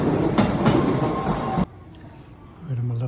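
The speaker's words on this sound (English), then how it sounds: "Let's see if this train can make that stop." A train passing at a station in Kyoto, its loud rumbling clatter close by for over a second before cutting off sharply, leaving quieter station ambience and a brief tone.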